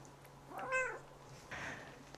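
A single drawn-out cat meow with clear rising and falling harmonics, moderately near, followed by a softer breathy trailing sound over a low steady hum.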